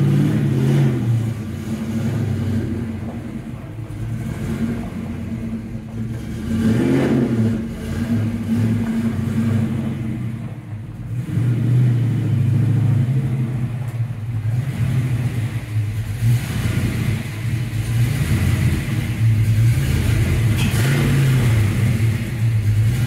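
A car is driven into a workshop garage and onto a lift. A steady engine rumble with light revving and shifting drive noise runs throughout, fairly loud and close, and no one speaks.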